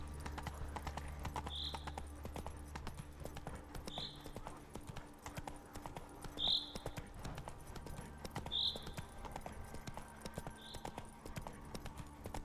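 Hooves of the horse Roach in The Witcher 3 clip-clop at a steady, spaced rhythm under a constant low game ambience, with a few sharper hoof strikes standing out. No voices.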